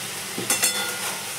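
Hilsa fish curry pieces frying in hot oil, with potato and eggplant in the dish, give a steady crackling hiss that swells briefly with a couple of louder spits and pops partway through.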